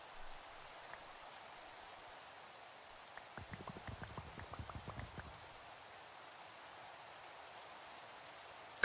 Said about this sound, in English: This is Winnie standing in the rain.